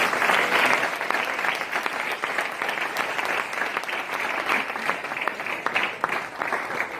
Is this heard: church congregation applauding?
yes